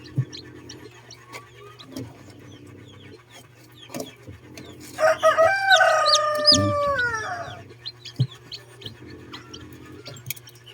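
Backyard chickens cluck in short, scattered bursts, and a rooster crows loudly and nearby midway through, with soft rustling in between.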